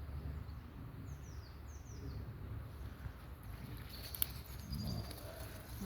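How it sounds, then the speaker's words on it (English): Birds singing outdoors along a countryside walk by a hill, with short, faint chirps and twittering calls well in the distance over a soft background hush. "Oh, the bird songs."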